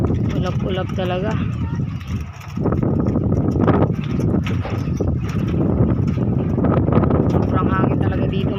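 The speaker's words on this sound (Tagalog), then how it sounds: "Sobrang hangin talaga dito mga kapatids." Strong wind buffets the microphone outdoors at a pigeon loft in sunny, cloudy weather, a constant loud low rumble that runs nearly throughout, briefly dropping once, with someone talking over it.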